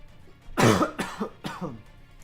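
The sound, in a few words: cough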